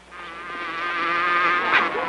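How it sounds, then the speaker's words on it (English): A bee buzzes steadily and fairly close in a sitcom scene, a continuous droning hum that swells slightly louder toward the end, with no talk over it. "That's a bee."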